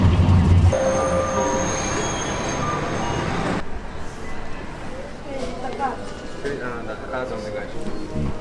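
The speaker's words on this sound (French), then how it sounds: "on a pris le petit tram de la ville" A small city tram in Hokkaido rides along its rails with a continuous rumble and clatter, first a louder rolling hum, then quieter wheel noise with faint squeals and knocks.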